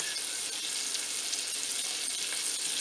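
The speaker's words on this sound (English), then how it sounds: "brown them up on high heat" Beef patties for Salisbury steak browning in a pan over high heat, giving a steady, loud, close sizzle that holds without a break and has no voices over it.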